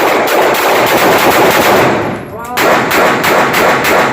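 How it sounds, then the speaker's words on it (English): Rapid handgun gunfire on a shooting-range firing line, loud, close shots in a continuous volley with a brief lull midway before firing resumes. "You may commence firing."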